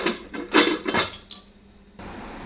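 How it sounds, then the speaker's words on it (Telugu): A lid is put on a pan of ivy gourd curry, giving a few quick metallic clatters and scrapes in the first second, then quiet background. "దొండకాయ ముక్కలు మగ్గేంత వరకు మనం మూత పెట్టేసుకోవాలి"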